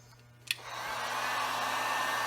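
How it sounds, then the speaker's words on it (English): A heat gun warms a part to loosen it for removal: a click as it switches on, then a steady, rising blowing whir that holds close and loud to the end. "all you got to do is warm it up a little bit with your heat gun"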